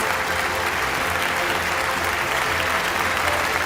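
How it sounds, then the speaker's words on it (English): Dense, loud applause from the audience at the e4m Health and Wellness Marketing Awards 2025 ceremony, sustained clapping of a large crowd for award winners, with no break. "Let's give them a big, big round of applause."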